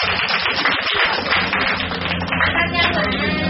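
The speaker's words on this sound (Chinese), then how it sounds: "掌声鼓励一下。" An audience at a 2008 Christmas costume party claps in a dense, continuous burst of applause, steady and fairly loud, with faint voices mixed in.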